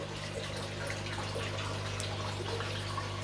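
Water pours steadily during an aquarium water change in a fish room, a constant quiet rush over a low electrical hum, with no voices.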